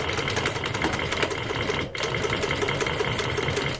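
A Bridgesew PB 335 cylinder arm walking foot sewing machine stitches at about 500 stitches per minute, a steady close mechanical chatter with one brief pause midway.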